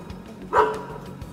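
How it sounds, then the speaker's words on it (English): A dog lets out a single short, loud bark close by, alone without any talking. "Stop barking."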